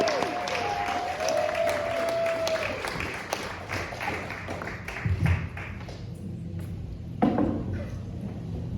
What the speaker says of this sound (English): Let's start clapping now. Let's give it up for Zach Wilkes, everybody.